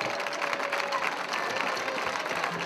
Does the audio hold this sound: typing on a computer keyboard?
no